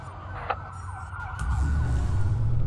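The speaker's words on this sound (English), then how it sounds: "That's a lot of sirens for a black." Police sirens wail in the open-world game Watch Dogs, a wavering tone over a rumbling engine-like drone that grows louder and heavier partway through, with no talking.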